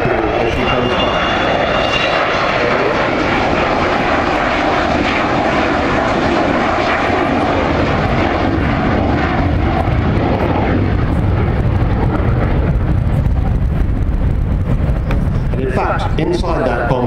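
An Avro Vulcan B2 jet bomber flies past at the Farnborough Air Show, a loud, continuous roaring engine rumble that holds steady and swells slightly near the end.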